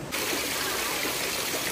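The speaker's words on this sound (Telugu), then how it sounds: "ఇప్పుడు వాటర్ ఫాల్ ఉంది చూసారా, మనకు కనిపించట్లేదు పెద్దగా, బట్ చాలా ఫోర్స్గా పడుతున్నాయి వాటర్ అయితే." A waterfall in Nepal crashes down forcefully, giving a loud, steady, unbroken roar of rushing water that fills the whole moment.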